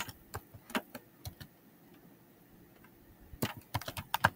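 CSS code is typed on a computer keyboard in sparse, faint keystrokes, some single and some in quick clusters, with quiet gaps and no voices.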